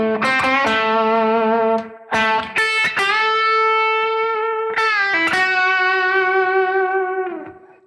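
Electric guitar with distortion plays a slow blues lick in minor pentatonic, a few picked notes and bends that ring out long and sustained, loud and close, with no talk.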